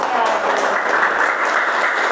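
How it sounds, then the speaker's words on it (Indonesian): Classroom applause for two classmates after their presentation: steady, dense clapping from a group of students, fairly close and sustained throughout, with faint voices mixed in. "tepuk tangan untuk kedua teman kita sekarang"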